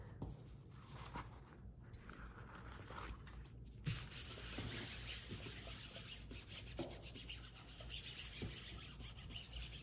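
A screen printing stencil is rubbed down onto a cotton tea towel, giving close, continuous scraping and rubbing strokes that repeat steadily over several seconds.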